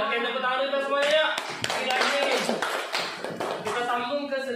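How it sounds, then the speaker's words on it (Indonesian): An audience at an Indonesian teachers' positive-culture dissemination session claps hands together steadily throughout, mixed with sustained tonal voices or music. "Oke, tepuk tangan kita semuanya yuk."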